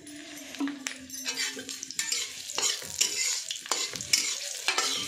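Green chili, small pieces of garlic and ginger leaf fry in mustard oil in a village kitchen, making a close crackling sizzle. Irregular scraping stirs and metallic clinks of a utensil against the pan break through it.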